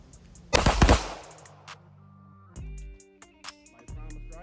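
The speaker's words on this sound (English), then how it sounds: "With every pull, there's a shot. With every release, there's a shot. First mag, here we go." Gen 3 Glock clone pistol with a G-Flex trigger fired at a range, a loud close cluster of rapid shots at the start, then sparser, quieter reports and clicks.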